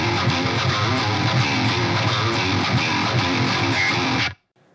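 A guitarist plays a riff on a distorted electric guitar, dense and loud, with quick pull-offs on the open strings. The riff runs for about four seconds and then stops abruptly into silence.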